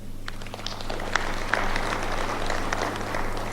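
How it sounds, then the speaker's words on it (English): An audience at a fellowship program inauguration applauds, a steady spread of clapping that holds throughout at moderate volume, with no voices. "and we applaud them."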